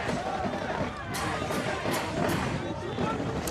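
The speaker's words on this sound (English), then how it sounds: "And you really hear the Crestview crowd" The Crestview home crowd at a high school football game against South Range makes a steady, dense roar of voices and hubbub, with a commentator talking over the noise throughout.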